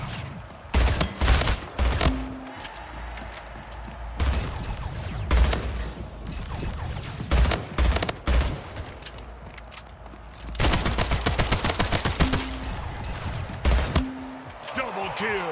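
Gunfire in Splitgate, the shooter game, comes in repeated bursts of rapid automatic shots with heavy impacts, stopping and starting through the stretch while game sounds play between volleys.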